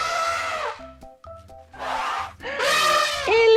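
African savanna elephant trumpeting in two loud, harmonic blasts separated by a short gap, with a sustained wailing tone at the end, heard alone over a soft backing tune.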